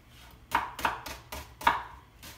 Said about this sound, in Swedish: Det är bara att hacka den.